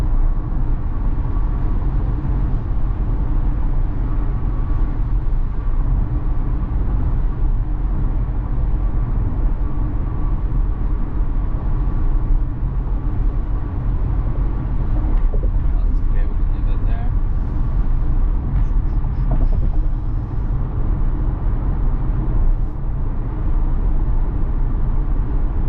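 A Tesla on Full Self-Driving 12.5.6.3 speeds up from about 58 to 65 mph on a highway. A steady, loud road and engine rumble runs continuously throughout, with a person talking over it.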